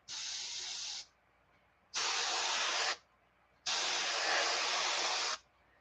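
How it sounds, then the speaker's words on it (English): Three bursts of pearl white spray paint hiss onto a fishing lure, each about a second or more long, the last the longest, separated by short quiet gaps. "then we'll just do a little spray"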